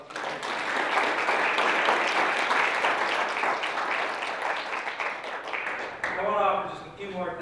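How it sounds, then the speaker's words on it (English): Sustained applause from a lecture audience, dense steady clapping for about six seconds, then fading as a voice begins speaking near the end. "let's give Dr. Carpenter a big round of applause."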